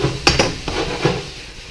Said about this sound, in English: Beef has started, the pan's cooled down a lot.